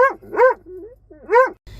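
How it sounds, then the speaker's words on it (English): A dog barks several times in quick succession on a residential lawn, loud and close, with a short whimpering note between barks. "Cooper, no bark."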